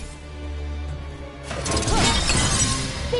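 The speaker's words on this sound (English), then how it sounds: "Shattering those chains will free them out." Chains shatter with a bright, crashing burst in the video game Dragon Age: The Veilguard, breaking loudly over a steady low hum and ringing out for a couple of seconds.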